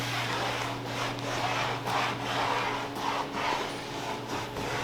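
A rag rubs in repeated strokes across a Sea-Doo jet ski hull as it is wiped down with acetone. The soft, close swishes repeat at an uneven rhythm over a constant low hum, with no talking.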